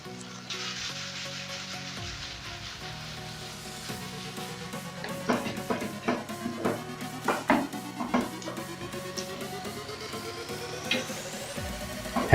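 Spaghetti stirred into melted mozzarella in a pan over heat, a faint sizzle under rhythmic scraping and clinks of utensil against pan, busiest in the middle and growing sharper toward the end, close up with no talking.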